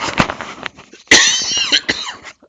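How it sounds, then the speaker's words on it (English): A single cough bursts out mid-clip, loud and close, between stretches of someone talking. "here comes a cough"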